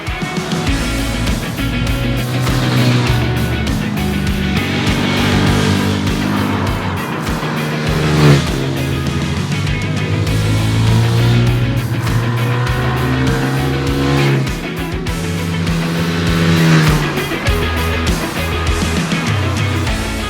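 A CFMOTO 300SR motorcycle being ridden on the road, its engine droning steadily with rising and falling revs through gear changes, loud and continuous under rushing wind.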